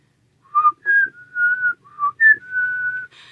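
A clear, close whistled tune of six sustained notes with short gaps between them, bright and alone against silence.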